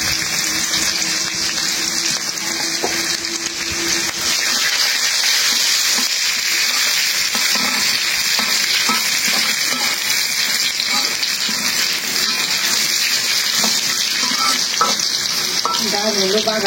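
Garlic and onion frying in a pan for a dal tempering, a loud, dense sizzle with bursts of crackle and stirring that runs without a break, close to the pan.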